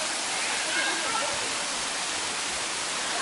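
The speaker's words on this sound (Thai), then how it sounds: "เจอแล้วน้ำตกก้อหลวงครับ" Ko Luang waterfall in Thailand, a loud, steady, broadband rush of falling water filling the whole scene without letup.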